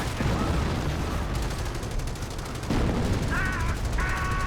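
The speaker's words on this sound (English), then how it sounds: "Alright, here comes that artillery." Artillery and battle gunfire in the Company of Heroes video game, Carentan defense mission: a loud, dense, continuous roar of explosions and shooting with rattling bursts, and a faint voice near the end.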